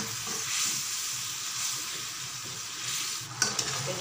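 Fish and fish roe hit a hot oiled pan in a spiced Bengali fish dish, giving a steady close sizzle and frying hiss with a couple of sharp spits near the end.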